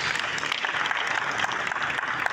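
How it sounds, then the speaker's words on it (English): An audience in Lagos applauds at a coffee-table book unveiling attended by the Ooni of Ife, a steady, moderately quiet crowd clapping that continues evenly throughout. "Can we give all of them a resounding applause, please?"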